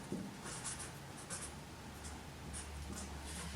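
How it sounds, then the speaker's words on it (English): A pencil scratches on paper in steady, continuous writing strokes, close and fairly quiet, with no talking. "cover it and write it"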